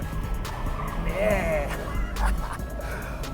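A 2017 Fiat Abarth 124 Spider's turbocharged engine revs as the car drives by, a rising and falling tonal whine over road rumble, with a brief voice in the clip.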